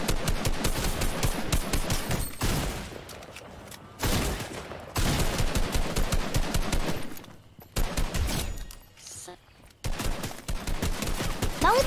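Rapid bursts of automatic gunfire from the video game Fortnite, loud and repeated in several clusters with short gaps, close and dominant over the mix.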